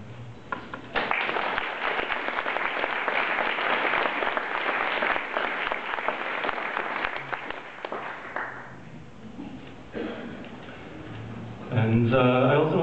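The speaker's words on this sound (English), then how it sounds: "they deserve another round of applause and many more" An audience applauds loudly, dense steady clapping for about eight seconds before fading into scattered claps, then a voice begins speaking near the end.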